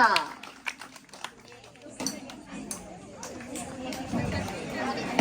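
An audience at a village women's game in rural Maharashtra bursts into scattered clapping and chatter, with claps and cheers rising into a busier crowd hubbub toward the end.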